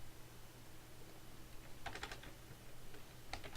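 Code being typed on a computer keyboard during a JSP web programming session: two short, faint clusters of key clicks over a low steady hum, with no talking.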